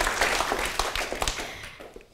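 Audience applause for a speaker at a lecture: a short burst of clapping that starts full and fades out over about two seconds.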